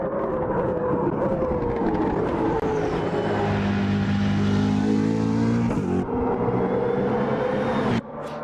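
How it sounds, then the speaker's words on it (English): A V8 engine rumbles from a car in the racing game Automobilista 2. A loud, steady roar holds throughout, with a deep note that swells in the middle before briefly cutting out near the end. "and then you get this V8 rumble"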